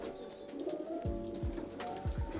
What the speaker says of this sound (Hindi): ये भी रामपुरी कबूतर हैं।